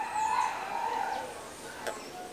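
A rooster crows at a moderate distance, a long wavering call with a single sharp chirp near the end, heard alone with no talk.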